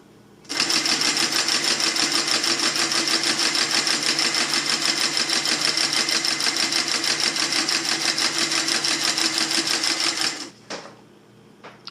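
A Consew 223R industrial sewing machine with a right-angle binder sews binding onto fabric in one loud, steady, fast run of rhythmic needle chatter lasting about ten seconds, then stops abruptly with a brief clunk.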